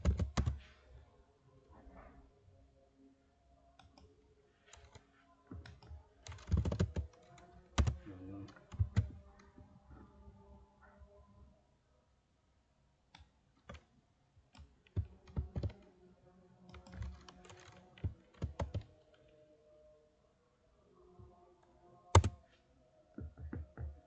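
Bursts of typing on a computer keyboard as commands are entered, clusters of quick clicks and taps separated by quiet pauses, close and fairly soft.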